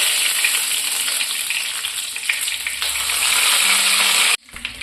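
Curry leaves crackle and sizzle loudly in hot coconut oil for fish pollichathu, a dense, steady frying hiss that cuts off abruptly near the end.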